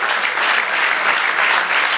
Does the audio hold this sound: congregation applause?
yes